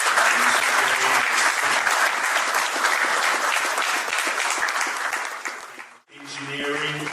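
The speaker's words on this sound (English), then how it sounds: "But please, ladies and gentlemen, can you give another round of applause?" A crowd at the Nigerian British Awards gala night breaks into loud, full applause that runs steadily, dips sharply for a moment, then swells again, with a voice faintly audible amid the clapping.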